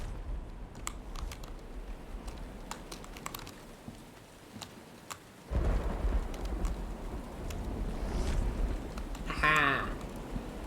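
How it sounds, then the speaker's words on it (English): Rain and thunder in the video game Myst Online: Uru Live, a steady hiss of rainfall that swells midway with a low rumble, alongside scattered clicks and a brief tonal chime near the end. "Now we have to wait till it stops raining."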